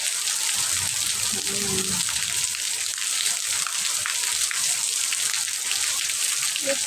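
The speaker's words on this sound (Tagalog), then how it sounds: "Kahit malakas ang ulan." Heavy rain falls in a steady, dense hiss that pours on without pause, with a brief voice heard early on.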